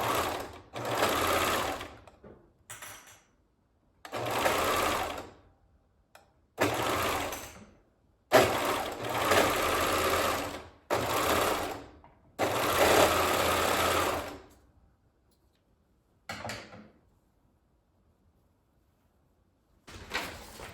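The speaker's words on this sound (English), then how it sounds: "I'm now going to serge that with about 1/2 inch seam allowance." A serger overlock machine sews the shoulder seams of a shirt in repeated loud, fast-running bursts of a few seconds each, separated by short silences, heard close up.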